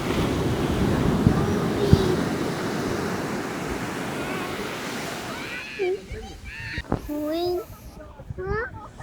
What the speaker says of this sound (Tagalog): Wave, stop! You can't stop the wave!